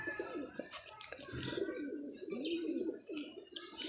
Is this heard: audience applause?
no